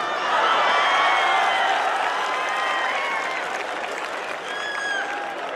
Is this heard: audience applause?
yes